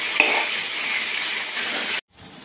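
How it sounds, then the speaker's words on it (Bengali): Chicken frying in a pan with turmeric and salt, a steady, close hiss of sizzling oil with one small clack, cutting off abruptly near the end. "একটু হলুদ নুন দিয়ে ভালো করে ফ্রাই করে নেব"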